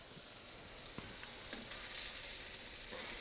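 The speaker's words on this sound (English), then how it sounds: "So I've been sauteing it for about 2 minutes so far, and I'm gonna let it go a little bit longer" Lingcod fillet sautéing in a hot pan, giving a steady broadband sizzle and crackle throughout with a few small pops and spatters, close and fairly quiet, with no voices.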